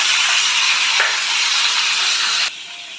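Pumpkin and potato pieces hitting hot oil with panch phoron and fried peanuts, a loud, steady broadband sizzle that holds for over two seconds and then drops abruptly to a quieter hiss.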